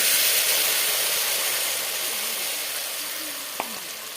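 Spice masala sizzling in a hot pan alongside fried eggs, a loud, dense, continuous hiss up close that slowly fades slightly, with one brief knock near the end.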